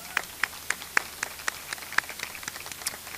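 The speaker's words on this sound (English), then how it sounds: "and they deserve a big round of applause" Applause at a graduation ceremony comes through as a faint, sparse run of crisp claps in a steady, evenly spaced rhythm, about a dozen in a few seconds, with no voices.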